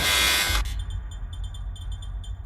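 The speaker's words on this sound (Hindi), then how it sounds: "इन सब ने बजर दबा दिया" A quiz show buzzer sounds as a contestant presses it: one loud, harsh half-second blast that cuts off abruptly, followed by quieter rhythmic electronic beeps.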